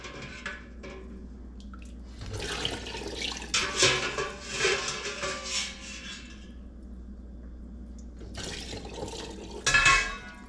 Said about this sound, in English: Turn that cold water on and let it go until all the eggs are nice and cold to the touch.